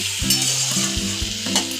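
Potatoes fry in a pan while being stirred to brown them, a loud steady sizzle with a few quick scraping strokes close by.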